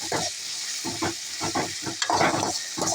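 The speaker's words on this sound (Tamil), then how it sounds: "கொஞ்சம் தக்காளியும் வெங்காயமும் நல்லா ஃப்ரை ஆகணும்" Tomatoes and onions frying in a pan for a bitter gourd kootu, with repeated stirring scrapes and a steady sizzle underneath, close and fairly loud, no one talking.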